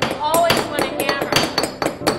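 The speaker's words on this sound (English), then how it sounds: "Always want a hammer." Metal hammer striking repeatedly in a glass studio, a quick irregular series of sharp close knocks with a bright ringing tone, heard alone at a steady loud level.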